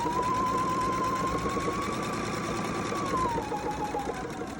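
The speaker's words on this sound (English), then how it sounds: "I'm gonna stitch across the top" A sewing machine runs a quarter-inch seam straight across the top edge of fabric for a lined pocket, giving one continuous motor whir that dips in pitch near the end as it slows.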